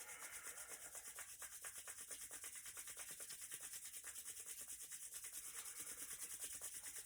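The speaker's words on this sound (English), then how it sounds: "bring the hands together and rub the palms quite vigorously together" Palms rubbed vigorously together during a yoga practice, a steady dry friction hiss with a quick back-and-forth rhythm, close and fairly quiet, continuous throughout.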